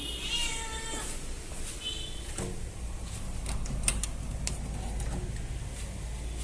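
A hungry cat meows a few times close by, the clearest calls early on, with a low steady background hum and no speech.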